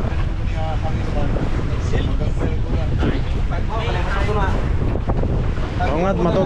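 Strong wind buffets the microphone in a continuous roar while people talk underneath, their voices partly masked by the gusts.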